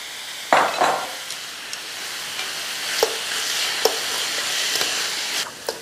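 Seasoned chicken strips with minced garlic sear in a hot pan, a steady sizzle running throughout while a utensil stirs and scrapes with a few sharp knocks against the pan; no talking.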